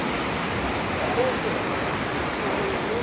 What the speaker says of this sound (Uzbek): Daryoni buxor bilan oqishini qarang.